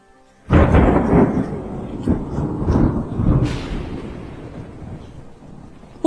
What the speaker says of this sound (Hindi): थोड़ी देर बाद जोरों की बारिश शुरू हो जाती है